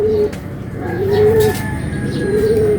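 A dove or pigeon coos in soft repeated low phrases, fairly close, over a steady outdoor background hum.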